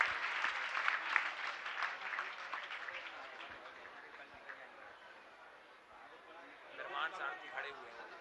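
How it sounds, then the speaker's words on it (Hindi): Applause from a gathered audience at a Jain religious discourse with Muni Shri Praman Sagar, loud and dense at first, then thinning and fading before swelling again near the end, with faint voices beneath. "एक बार जोरदार जोरदार जोरदार तालियों के साथ"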